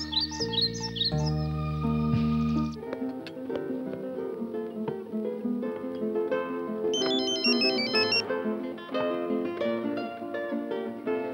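A phone ringtone plays during a call, a chirping bird-like electronic melody followed by a continuous musical tune at moderate level, with no talking.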